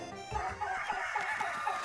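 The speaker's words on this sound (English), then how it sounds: "Careful with the hens now, you hear?" Hens clucking in a chicken coop in a video game, a dense, continuous flurry of overlapping clucks and squawks close by, with no talking.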